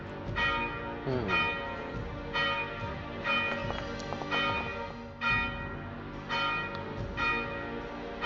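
A church bell rings repeatedly in a steady, resonant peal, each strike blooming with long overlapping harmonics, loud and close with no talking.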